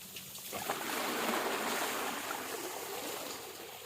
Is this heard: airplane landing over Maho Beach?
no